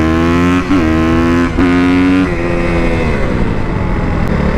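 A motorcycle engine revs hard and accelerates on a wheelie run, the loud pitch climbing through gear changes with brief dips between shifts, then settling into a steady roar close by.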